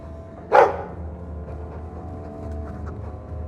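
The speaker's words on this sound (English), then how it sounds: "He's a sweet dog, Hawk." A single sharp dog bark in the video game Dragon Age 2, loud and close, ringing out once over a low steady background hum.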